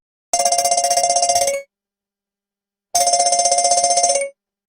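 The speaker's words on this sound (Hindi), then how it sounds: "मोबाइल बज उठा" A mobile phone rings in two loud bursts of rapid electronic trilling, each lasting over a second with a pause of silence between, heard alone at closing time by a village shop.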